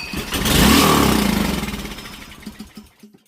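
A Predator 224 engine on an MB200 mini bike, primed with carburetor spray, catches and roars loudly for about two seconds before sputtering and dying, with a few faint coughs at the end.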